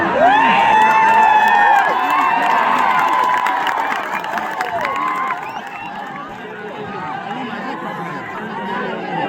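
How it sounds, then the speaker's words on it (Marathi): Spectators at a bull fight event in Chinchghar shout and cheer as a dense, loud crowd, with overlapping voices and excited calls. The roar is strongest at first, then eases slightly and stays steady. "प्रेक्षकांनी आरडा करू नये. आपला आनंद हा द्विगुणित करा. कोणीही आरडाओरडा करू नये."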